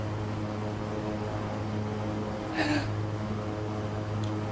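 A King Air 350 turboprop drones steadily in flight in X-Plane 12, with a constant low engine hum and a brief chirp partway through, no talking.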